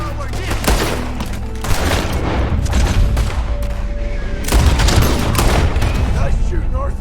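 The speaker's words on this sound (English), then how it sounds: "Nice shooting, Arthur." Gunfire in Red Dead Redemption 2, a dense fusillade of rifle and pistol shots with booming reports crackling continuously throughout, loud and close, mixed with game voices speaking.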